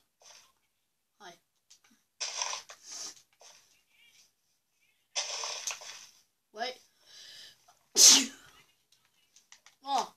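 One sharp, loud sneeze stands out amid scattered, breathy speech and faint clicks during a Minecraft session with friends, close to the microphone.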